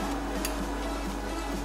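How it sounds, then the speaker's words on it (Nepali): Grated carrots fry in ghee in a pan, a faint, steady sizzle with light crackle, heard close with no voices. "यो कोरेको गाजरलाई हामीले भुट्नु पर्छ घिउ हाल्यो"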